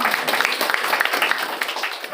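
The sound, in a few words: audience applause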